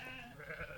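Sheep grazing under solar panels give a faint, short bleat, barely rising above the steady outdoor background in a brief moment.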